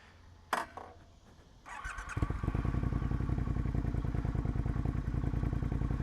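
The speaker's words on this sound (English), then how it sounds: "Let me turn the bike on real quick so you can hear it." A 2017 Triumph Thruxton R motorcycle cranks briefly, catches and settles into a steady, loud, close idle with an even, rapid pulsing beat after a short starter whir and clatter.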